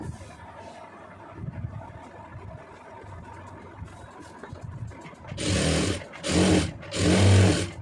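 Sewing machine stitching a blouse lining, quiet handling and soft rustle at first, then three loud bursts of rapid motor-driven stitching close up near the end.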